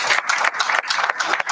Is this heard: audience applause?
yes